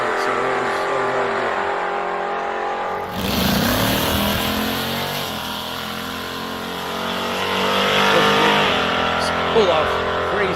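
Race car on a track test pass with a manually shifted gearbox, its engine roaring in loudly partway through and surging as it accelerates, over a steady background and with people talking.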